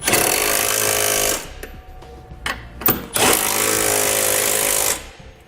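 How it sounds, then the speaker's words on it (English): An impact wrench snugs the hex bolts of a trailer hitch receiver on a 2018 Ford Explorer using a 19mm socket, with loud sustained buzzing bursts broken by short pauses and brief blips, close up. "For our hex bolts, I'm going to be using a 19mm socket to snug them up."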